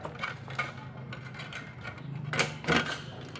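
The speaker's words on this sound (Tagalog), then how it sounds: "gumamit lang tayo ng T na 8mm para matanggal natin yung tornilyo." An 8mm T-wrench turns to back out a screw with a worn, stripped head, giving a run of soft mechanical ratcheting clicks and scrapes, close and fairly quiet, with a couple of sharper clicks near the end.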